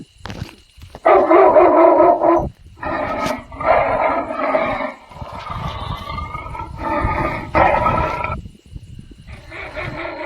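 A dog barks in several long, loud bursts separated by brief pauses, with no one talking.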